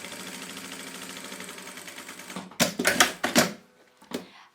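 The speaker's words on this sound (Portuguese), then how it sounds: "vou passar uma costura aqui, ó, escondendo e fazendo o acabamento nessa costura" Sewing machine stitching a bias binding finishing seam on a fabric toy storage basket, a steady close mechanical whir for over two seconds, then stopping into a few louder handling clatters and bumps.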